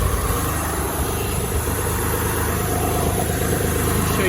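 A 2003 Mitsubishi Eclipse engine with 130K miles idles steadily, a continuous close, even hum with a faint rhythmic pulse and no talking.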